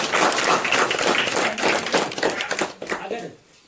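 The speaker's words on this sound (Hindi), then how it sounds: "तो ताली हो जाए सबसे पहले।" An audience of NSS camp volunteers, mostly girls, bursts into loud, rapid clapping close by that carries on for about three seconds, then tapers off quickly, with voices mixed in.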